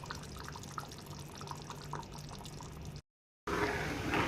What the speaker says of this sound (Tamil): நான் இதில் வந்து தேங்காய் எண்ணெய் விட்றேங்க.